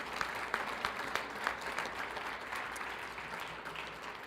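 An audience at a Special Olympics law enforcement torch run conference applauds in a steady, even patter of many hands, fairly distant and soft, lasting throughout.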